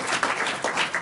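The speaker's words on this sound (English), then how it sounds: "Please help me welcome to the podium Representative Lynch" An audience claps to welcome a congressman to the podium at an event on opioid overdose deaths. Dense, steady applause from a crowd lasts about a second.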